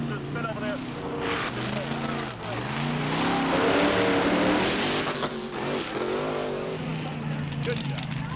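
Monster truck engines roar and rev during an obstacle course race, a loud continuous drone rising and falling over several seconds with an announcer talking over it.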